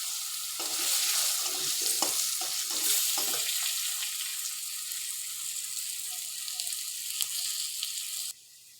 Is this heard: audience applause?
no